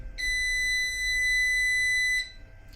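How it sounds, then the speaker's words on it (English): A door entry buzzer in a home workshop sounds as one steady electronic tone, loud and close, lasting about two seconds before cutting off. "That's open the door buzzer, but I already opened it."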